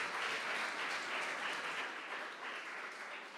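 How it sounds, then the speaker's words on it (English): An audience at a primary school graduation claps for a steel orchestra performance, a steady wash of many hands heard quietly from a distance. "can we give them another round of applause"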